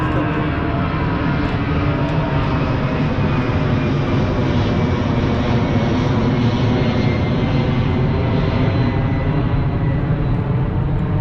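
A loud, steady airplane engine roar rumbles overhead near a hotel by the airport, a continuous broadband drone with no talk over it.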